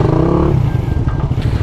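A Suzuki Raider 150 Fi motorcycle fitted with a new muffler revs up close and loud in a throaty burst, then drops to a lumpy, pulsing idle.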